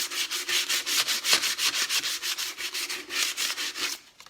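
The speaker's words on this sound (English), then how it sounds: "I use 220, and it doesn't take much. You just lightly sand." Light hand sanding of a guitar's finish with 220-grit sandpaper, a steady series of close, rhythmic rubbing strokes, roughly four per second, continuing alone until the last stroke stops.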